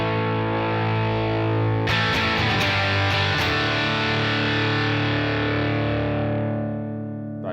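Distorted electric guitar swells in as a volume pedal is raised with its linear setting off, a held chord thickening into strummed, gritty sustain that then rings out and slowly fades, loud and without speech.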